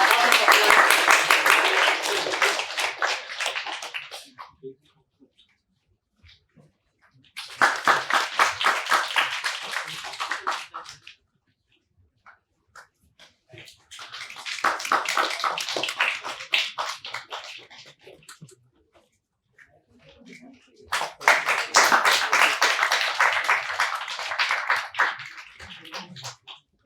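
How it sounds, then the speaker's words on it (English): An audience at a datathon winners' announcement event claps for the winning team in four separate bursts of a few seconds each, divided by near-silent gaps, the bursts loud and fairly close. "Come on, give them a big round of applause"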